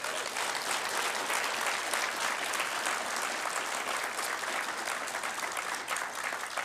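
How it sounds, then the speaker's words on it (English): An audience claps for honorees at an agency awards ceremony at NASA Glenn Research Center, sustained loud applause from a large hall filling the whole stretch. "Let's give our honorees another round of applause."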